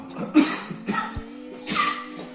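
A few rough coughs from a person who is slightly ill break out close by, one sharper burst followed by softer ones over a low steady hum.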